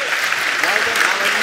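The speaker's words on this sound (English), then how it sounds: "Could you please give them a round of applause?" Round of applause from a conference audience at a children's show-and-tell day, a brief, dense burst of many hands clapping with some voices mixed in underneath.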